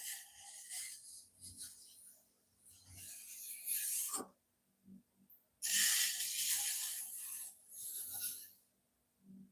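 A trimming tool scrapes the bottom of a clay pot to clean it up and square its edge, in short raspy strokes that come in bursts with pauses of near silence between them.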